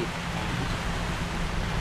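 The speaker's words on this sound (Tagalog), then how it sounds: "Malakas yung ulan." Heavy rain falls outdoors as a loud, even hiss of dense drops, steady and unbroken throughout, with a faint low rumble beneath.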